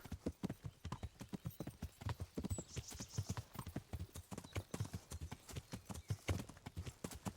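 A fast horse's hooves clip-clop in a quick, steady, continuous rhythm in a video game, soft and unaccompanied by talk.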